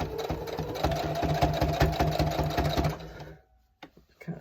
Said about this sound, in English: Now I can sew.